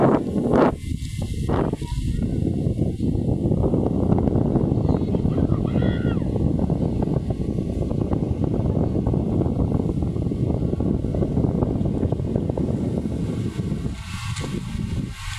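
Steady, heavy wind roaring across the microphone by the choppy sea at Manila Bay, with a constant buffeting rush and faint water sounds beneath.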